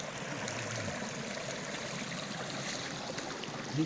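Water tumbles steadily down a natural waterfall over rocks in a Kud Chum, Yasothon forest, a continuous broadband rushing roar with no talk.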